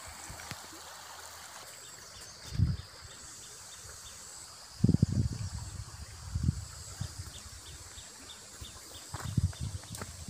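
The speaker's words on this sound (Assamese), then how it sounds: "ইয়াত কুলু কুলু নদীৰ নিজৰা হয়," A small gurgling stream at an eco restaurant in Arunachal Pradesh, a steady soft wash of flowing water with a few low thumps breaking through.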